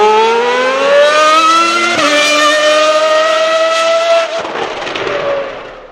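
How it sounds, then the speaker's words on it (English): A Ferrari F12 T2 Formula 1 car with a 3-litre V12 engine revs loud and close, a piercing high-pitched wail climbing through gear changes before dropping away at the end. "The 3-litre engine in this car generated one of the most amazing sounds I've ever heard in my life"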